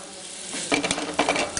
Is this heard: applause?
no